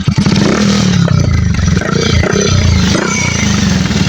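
A Rusi Rouser 180 motorcycle engine, rebored with a replaced block, idles loudly and steadily up close, with a rattling, clattering mechanical chug throughout.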